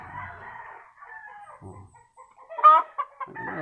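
Stag roosters at a small backyard coop, clucking softly in short bursts before one crows sharply, close by with quiet pauses between calls.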